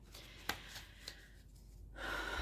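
A deck of playing cards being shuffled by hand at a table before a board game, a quiet riffle with a couple of sharp snaps, then a steadier rushing burst near the end.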